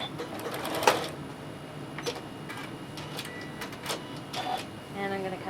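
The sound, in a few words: sewing machine back stitching quilt binding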